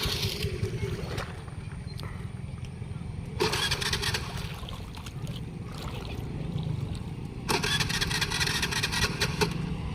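A scooter engine is cranked with the choke pulled, in a flooded village area. A low, rough rumble runs throughout, rising into two louder bursts of revving, with voices talking nearby.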